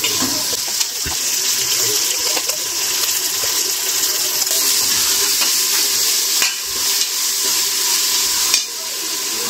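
Ginger garlic paste frying with sautéed mint leaves in a pan, a steady sizzling hiss with intermittent stirring taps, fairly close and unbroken, no speech.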